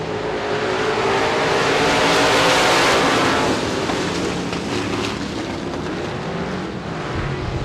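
Engines of six USA Limited Modified race cars roar together as the green flag drops at Devils Bowl Speedway, a loud, sustained drone that swells and then eases as the pack pulls away.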